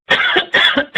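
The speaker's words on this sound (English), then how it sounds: "Excuse me, little cough." Several quick, sharp coughs from an adult, close and loud, in a rapid cluster of three or four bursts.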